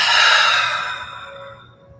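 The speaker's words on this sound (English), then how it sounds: "And exhale." A slow, relaxed exhale out through the mouth during a guided breathing exercise, a single soft breathy whoosh close to the listener that tapers away over about two seconds, heard alone.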